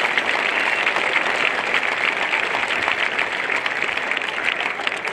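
Continuous applause from a crowd at a 2018 running event in Finland, steady and fairly distant-sounding throughout.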